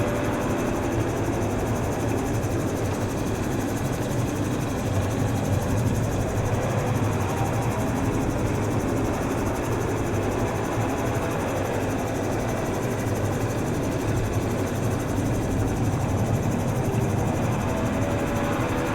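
A Bensen gyroplane engine runs steadily in flight during a power-out recovery practice, a continuous loud droning rumble with broadband wind roar throughout, no voices over it.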